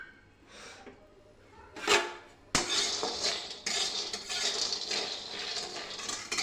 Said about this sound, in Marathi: आता आपण कढईमध्ये हे शेंगदाणे छान असे भाजून घेऊ